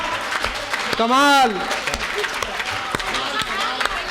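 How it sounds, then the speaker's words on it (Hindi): Audience applause at a Hindi comic poetry gathering, with the commissioner joining in: a dense wash of clapping running throughout under a brief exclamation and other voices talking. "सर देखिए कमिश्नर साहब ने भी ताली बजाई"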